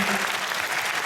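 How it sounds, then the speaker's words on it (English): A short burst of enthusiastic clapping from a film premiere audience at an introduction and Q&A, dense and loud throughout. "give a big round of applause"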